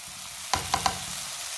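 Finely chopped cabbage hits a pan of cooked onions and begins to fry: a soft hiss with three quick, close spatula taps in under a second.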